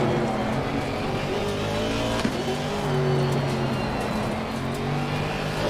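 A steady, loud Aston Martin Vantage race car engine in Assetto Corsa Competizione roars at sustained high revs with shifting pitch, GT3 and GT4 racing at Oulton Park, with a faint tyre squeal in the mix.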